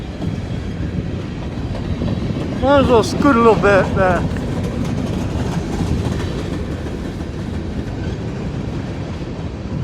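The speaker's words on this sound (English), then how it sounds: "let's see this train go by" A train rolls past close by on railway tracks, its wagons rumbling steadily with a few brief squealing wheel sounds early on, while someone talks over it.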